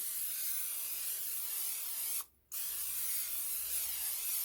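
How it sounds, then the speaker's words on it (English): Cooking spray hisses steadily onto a pan on a stovetop, a continuous loud spray broken by one brief pause before resuming. "Let me spray my pan."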